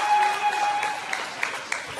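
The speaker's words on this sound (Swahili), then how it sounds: "Makofi mengi." An audience applauds at the close of a speech at a factory event, sending out a brief burst of dense clapping that fades over two seconds, with a few louder single claps near the end.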